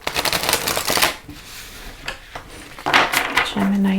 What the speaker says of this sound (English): Let me shuffle these a few more times.